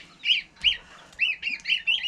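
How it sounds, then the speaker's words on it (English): Baby chicks from a barnyard mix of brown egg layers, peeping in short bright repeated chirps, about eight calls in quick succession, close and clear with no talk. "my baby chicks here are all girls"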